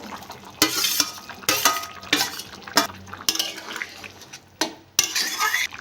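Potatoes, kohlrabi and prawns tipped into a pot while cooking a cauliflower, potato and kohlrabi curry, with several sharp clanks and scrapes of a utensil against the pot between softer stirring noise.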